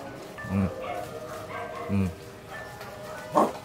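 A dog barking outdoors, three separate mid-pitched barks spaced about a second and a half apart, heard over a background of people talking and ambient noise.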